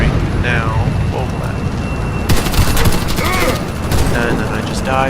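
Semi-automatic sniper rifle fire in the shooter game Warface during a team deathmatch, with bursts of sharp gunshots and booming impacts from about two seconds on over steady game noise and chatter.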